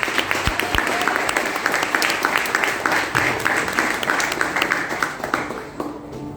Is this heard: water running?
no